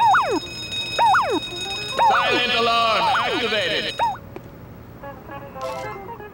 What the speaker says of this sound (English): Silent alarm activated.